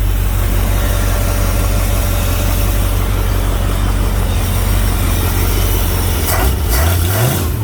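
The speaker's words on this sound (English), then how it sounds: "This is why we haven't yanked this motor out, because it runs so smooth." A 1962 Ford Fairlane 500 V8 runs steadily and smoothly at idle, with a continuous low engine rumble that stays close and loud throughout. Near the end the engine note shifts slightly and rises.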